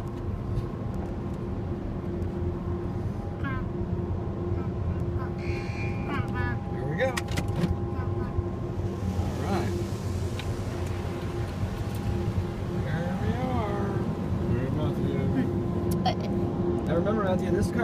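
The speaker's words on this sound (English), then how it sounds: "This car wash is kind of fast" An automatic car wash at a Shell gas station runs as a car drives through, with a loud steady mechanical hum and rumble, swishing and whirring bursts and occasional rising tones, while people talk over it.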